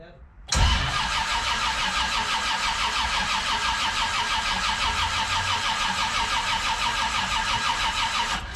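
An old car that has been sitting a while cold-starts up close: the starter cranks, the engine catches abruptly and settles into a loud, steady, slightly uneven idle that runs on without a break, with voices nearby.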